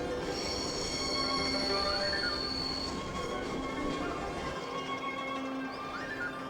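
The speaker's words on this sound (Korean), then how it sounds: "떨컹떨컹 느리게 달리는 기차가 아름답기로 유명한 하이반 고개를 달린다." Slow train on the Hai Van Pass, wheels clattering and squealing on the rails with long high-pitched screeches over a steady rumble, continuous and moderately close.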